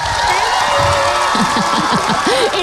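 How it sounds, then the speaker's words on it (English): A live studio audience bursts into sustained applause at a morning radio show, a steady wash of clapping and cheering with a voice speaking briefly over it. "Big round of applause, everybody."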